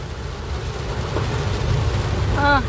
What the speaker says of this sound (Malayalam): നല്ല മഴയാണ് അവിടെ.